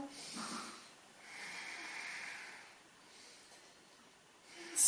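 Slow, deep breaths during a full-body yoga stretch, soft airy inhales and exhales rising and falling in a few long cycles close to the microphone, ending with a brief louder rustle.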